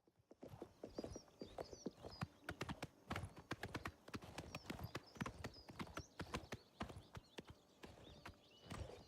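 A horse gallops in Oblivion Remastered, rapid rhythmic hoof clip-clops thudding close and steady, with occasional high whinny-like sounds above.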